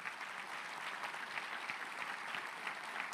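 Church congregation applauds in praise during a sermon, a continuous wash of many hands clapping, heard faint and somewhat distant with no speech over it.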